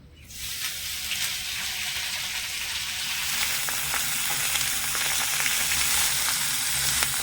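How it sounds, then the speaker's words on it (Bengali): Shredded cabbage hisses and crackles in a hot wok, the sizzle swelling after a moment and holding steady and close, with no voices. "কুচিয়ে রাখা বাঁধাকপিটা এবারে আমি কড়াইয়ের মধ্যে দিয়ে দেবো"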